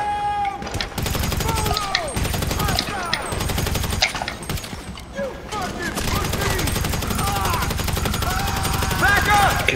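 Rapid, dense gunfire from a GTA Online heist prep mission keeps going without a break, with game music and effects layered underneath and voices heard now and then.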